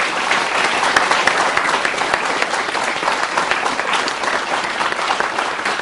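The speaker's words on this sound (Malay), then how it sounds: "Tepukan" Loud, dense audience applause at a Malaysian campus forum on sports, many hands clapping steadily and close for the whole stretch, with no voices over it.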